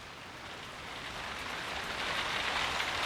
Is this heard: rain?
yes